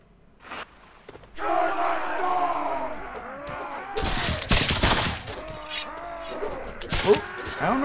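Gunfire in a pirate video game bursts out in loud, cracking volleys amid crowd shouts and battle cries, with sharp reports clustered in the middle and scattered shots continuing to the end.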